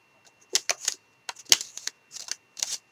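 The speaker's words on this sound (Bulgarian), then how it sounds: "ако чуете някакви странни звуци или пукани или нещо подобно. Това е просто когато се зарязва хартията." A Big Shot die-cutting machine crunches through paper in a series of sharp, close crackling pops and clicks that come in short clusters. The sound is fairly quiet, and no one speaks.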